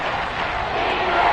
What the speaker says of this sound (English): Crowd getting in it a bit already.